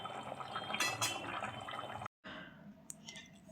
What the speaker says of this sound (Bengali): এবারে তরকারিটাকে ঢেলে নেব